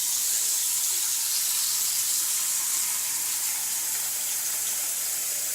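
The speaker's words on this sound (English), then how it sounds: "So we have our sink here. I'm just going to go ahead and put some water in there real quick." Tap water runs steadily into a sink, a continuous hissing splash holding even and fairly loud throughout with no talking.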